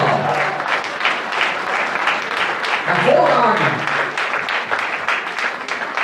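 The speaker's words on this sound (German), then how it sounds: "können wir einen Applaus haben für den jungen Mann in der Musik?" A crowd claps steadily in sustained applause at a German carnival session, while a voice speaks briefly over it.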